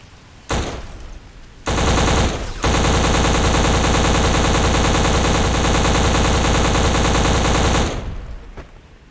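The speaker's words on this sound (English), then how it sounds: "Who was shooting at me?" Gunfire in the video game Black, beginning with a short burst and then sustained rapid machine-gun fire that goes on for several seconds, loud and close, before cutting off.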